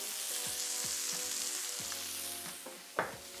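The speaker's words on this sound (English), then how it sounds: "I turn the heat off and I add a good chunk of butter" Butter sizzles and foams around rib eye steaks in a pan with the heat turned off, a soft steady crackle with a few sharper pops, close and alone.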